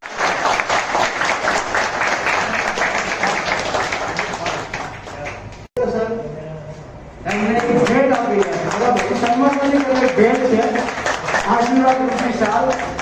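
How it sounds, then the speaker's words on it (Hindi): An award ceremony audience breaks into loud, sustained applause, dense clapping that dips briefly mid-way, then swells again while a voice speaks over it. "प्रत्येक भाई माते एक जोरदार ताली"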